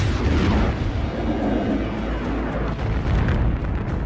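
Deep, rumbling booms of asteroid impacts battering the inner solar system's planets and moons, a dense continuous roar with heavy low-end swells and no voices, loud and close throughout.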